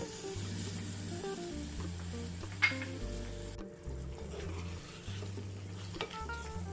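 Okra curry with crushed coconut sizzles steadily in a pan while a spoon stirs it, with a single sharp scrape partway through.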